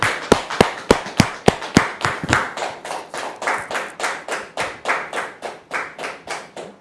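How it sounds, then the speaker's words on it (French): A studio audience on a TV set claps to welcome a guest, starting with a few sharp separate hand claps that quickly merge into a steady rhythmic clapping in unison, close and loud with no talking. "Dame Hélène, sous vos applaudissements"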